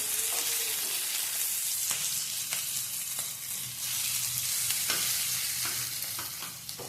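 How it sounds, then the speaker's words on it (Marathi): Stuffed green chilies fry steadily in a pan, a continuous sizzle broken by scattered scraping clicks as they are turned over, close and fairly loud with no voices. "सगळ्या मिरच्या आपण पलटी करून घेणार आहोत"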